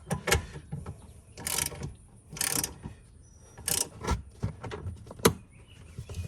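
A T47 Torx bit drives screws into the rear hatch of a 1987 Foxbody Mustang GT during hatch strut and weather stripping work, giving several close, sharp bursts of ratcheting clicks with short pauses between them.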